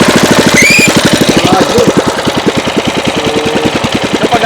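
Small engine of an improvised rail trolley starts and settles into a loud, rapid, steady putter close by, with a brief spoken exclamation near the start.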